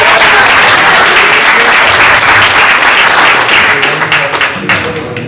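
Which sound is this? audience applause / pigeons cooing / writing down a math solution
audience applause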